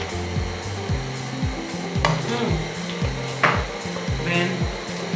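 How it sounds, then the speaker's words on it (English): Tomato paste is stirred into frying onions in a pot, giving a steady sizzle with rhythmic scraping strokes of the spoon, close and continuous. "Then give it a good stir"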